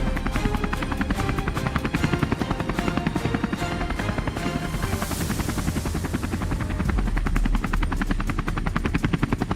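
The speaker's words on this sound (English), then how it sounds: "We boarded the compact helicopter and headed out toward the mist-covered fields." A helicopter's rotor thumps in a fast, steady rhythm, loud and close throughout, with a constant engine roar beneath it.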